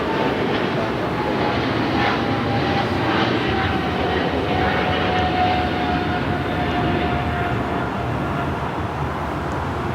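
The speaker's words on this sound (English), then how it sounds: "we got that American 777-300ER flight heading to London Heathrow, now rolling down." An American Airlines Boeing 777-300ER bound for London Heathrow rolls down the runway for takeoff at LAX, giving a loud, continuous engine roar with a thin steady whine running through it.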